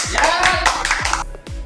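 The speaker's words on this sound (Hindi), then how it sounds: "मैं आपका दीवाना हूँ, तालियों की गड़गड़ाहट चाहिए।" Audience clapping at a company seminar, a few sharp, loud claps in an uneven rhythm mixed with voices and a faint tonal hum.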